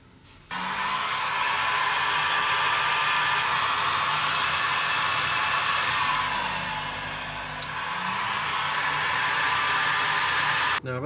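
A heat gun roars with a hot-air hiss while drying a rusty car engine bay, running continuously for about ten seconds, dipping briefly in pitch midway before surging again.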